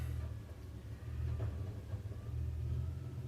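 A trash truck rumbles outside with a steady, heavy low drone and engine throb that swells slightly over a few seconds, moderately distant and continuous, with no voices over it.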